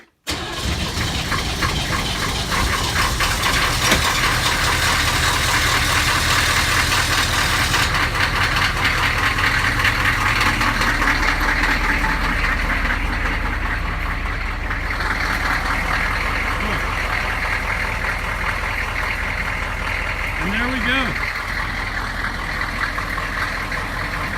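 Diesel truck that has sat unused starts and settles into a loud, steady idle, the rough engine rumble running close and continuous throughout with no talk.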